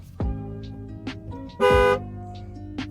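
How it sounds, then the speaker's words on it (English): Two short honks sound from the horn of a 2017 Dodge Ram 1500 Lone Star Edition with a 5.7 engine, the first brief and the second longer and louder, heard close inside the cab with faint clicks between them. "Nice little horn."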